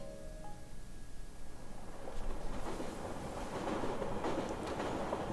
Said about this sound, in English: It's like the sound of a moving train.